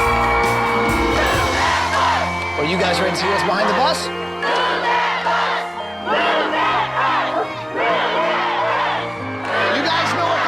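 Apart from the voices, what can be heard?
crowd screaming, yelling and cheering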